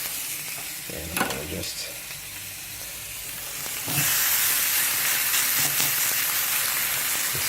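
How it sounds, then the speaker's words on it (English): Sous vide New York strip steaks drop into a very hot pan, with a few clanks before a loud, close sizzle erupts and holds steady while someone talks briefly over it. "take them and just give them a quick sear in a very hot pan"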